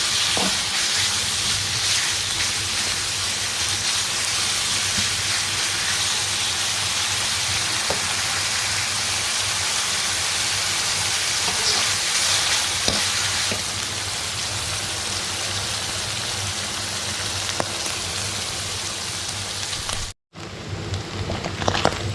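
Bacon sizzles and crackles steadily in a hot pan, a dense close-up hiss with occasional pops, briefly cutting out near the end.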